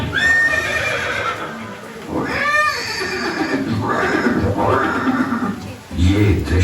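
A horse whinnies loudly in a Haldighati scene depicting Maharana Pratap's horse Chetak, with rising neighs and snorts over clip-clop hooves and a noisy crowd or background voices throughout.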